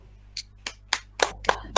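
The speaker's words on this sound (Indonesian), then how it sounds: "Tepuk tangan untuk Nahum." An audience in a teaching-practice classroom claps for a student: about six crisp, separate claps spaced evenly over under two seconds, close and moderately loud over a low steady hum, with no talk.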